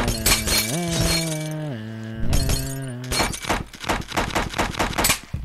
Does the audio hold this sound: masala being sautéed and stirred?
no